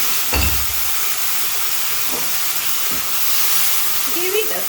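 Prawns sizzle in tamarind sauce in a pan for an asam prawn dish, a steady loud hiss of frying with a few dull knocks from the pan and faint background sounds.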